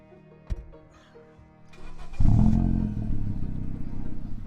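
A car engine catches with a sharp crank, then settles into a loud, steady, throaty idle close by, revving a little with no voices over it.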